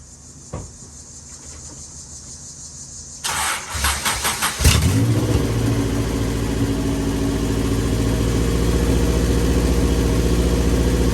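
Honda Integra GSR with a B18C1 engine and a 4-1 header fires up partway through and settles into a loud, steady idle close by, after a few quiet knocks and a short cranking burst.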